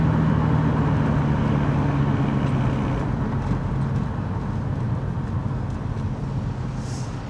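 Interior of a BMW 125i with the N52 straight-six on an early morning drive, a steady low engine drone and road rumble filling the cabin throughout with no talking.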